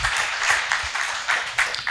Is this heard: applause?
yes